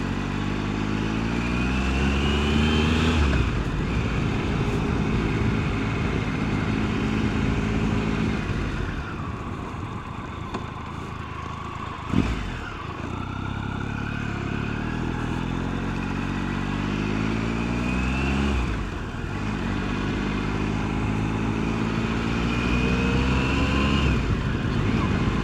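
An adventure motorcycle rides along a street on an evening run, its engine climbing in pitch through several gears, then easing off, dropping and pulling away again, loud and close throughout.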